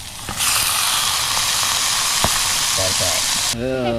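Onion hits a hot pan at a solo campsite and bursts into a loud, steady sizzle that runs on, with a few utensil clicks, before a voice speaks near the end.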